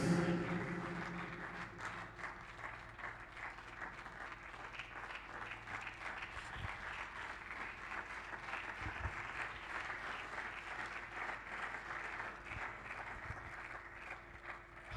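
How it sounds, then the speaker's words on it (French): A church congregation applauds steadily and continuously, the dense clapping spread evenly through the room at moderate volume. "And applause the Lord for his presence."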